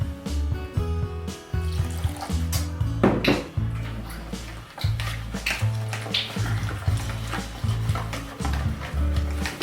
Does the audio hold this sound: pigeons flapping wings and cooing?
no